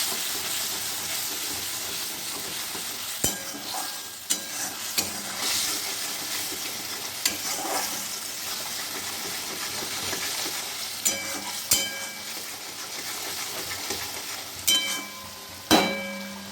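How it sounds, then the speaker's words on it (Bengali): Spice masala for a fish curry fries in a pan, a continuous sizzling hiss broken by repeated sharp scrapes and clinks of a spoon against the pan as it is stirred, no voices. "পরিমাণ মতো একটু নুন, আমি কষিয়ে নেব এটা"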